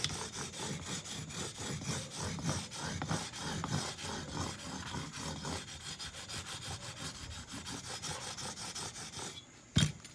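A fine abrasive file rubs steadily across the frets of a Fender Stratocaster being refretted with jumbo frets, a continuous close scraping with no pauses, ending in a brief sharp knock.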